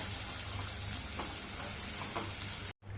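Chopped onions sautéing in a pan over medium heat for an aloo palak gravy, a steady close sizzle and crackle of frying with occasional stirring scrapes, continuous before cutting off abruptly near the end.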